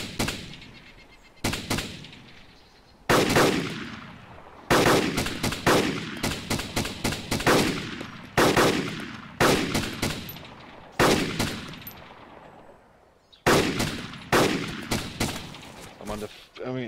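Gunfire in the DayZ survival game, loud, close rifle and automatic bursts repeating over many seconds, with each volley trailing off in a short echo.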